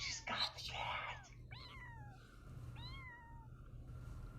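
Two or three drawn-out, rising-then-falling cat meows sound thin and fairly close after some faint whispering at the start, with a quiet background hum throughout.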